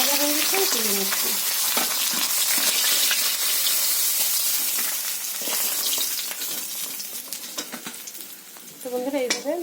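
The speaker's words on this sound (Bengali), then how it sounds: "তো বন্ধুরা এইভাবে ভেজে নিয়েছি কড়াইতে।" Tilapia fish fries in hot oil in a wok, with a loud continuous sizzle broken by scraping stirs of a utensil, close up, easing briefly before picking up again.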